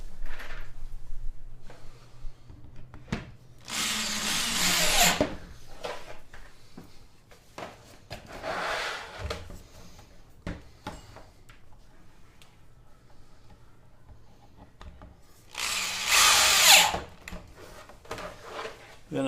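Power drill driving screws into the back of a wooden backdrop, two bursts of loud whirring a few seconds long separated by quieter handling and knocking of the wood, with a person talking at times.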